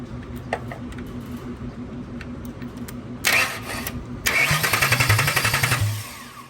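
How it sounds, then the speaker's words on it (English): A jump box powers an F-150 starter motor cranking an engine during a Coyote engine swap: a brief whirring burst, a pause, then a longer stretch of rhythmic cranking that stops abruptly, heard close over low background hum. "I'm just gonna see if the F-150 starter will work."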